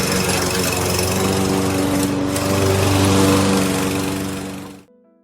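A lawn mower engine runs loud and steady with a buzzing, rattling drone, then quickly winds down and cuts out near the end, leaving near silence.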